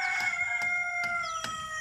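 A desi rooster crows on a free-range chicken farm, a sustained, fairly close, ringing call that holds across the whole moment, with faint periodic clicks and no talking.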